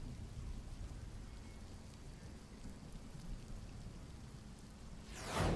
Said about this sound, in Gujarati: દુતારપરમાં કરા સાથે વરસાદ વરસ્યો